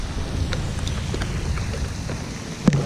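Steady rain falls outdoors during a fishing trip for Malaysian blackbass, a dense, even patter with scattered heavier drops and one brief louder knock near the end.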